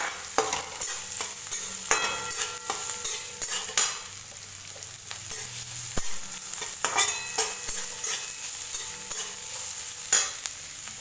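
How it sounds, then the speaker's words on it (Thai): Onions stir-fried in a pan after garlic for a fried bottle gourd kofta curry, a quiet steady sizzle punctuated by repeated scraping and clinking spatula strokes, no one talking. "ใส่หัวหอมลงไปผัดเลยค่ะ"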